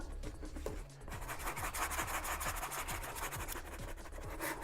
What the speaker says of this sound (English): your 60 grit sanding stick works really well